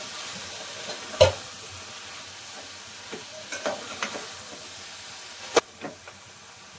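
Jackfruit seed gravy stirred in a pan, with a few scattered scrapes and clacks of the spoon over a soft background hiss, fairly quiet overall.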